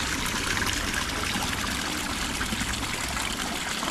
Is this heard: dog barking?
no